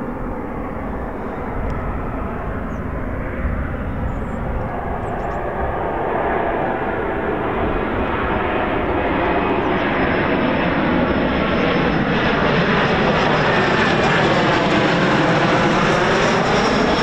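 An FAA calibration aircraft flying circuits at an RAF airfield, its steady propeller engine drone loud and continuous, swelling slightly as it passes nearby, with no talk.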